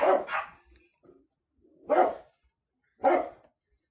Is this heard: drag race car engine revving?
no